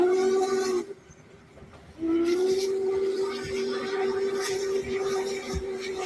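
A train whistle sounds in two sustained blasts, a short one then a long steady one, with rail clatter beneath.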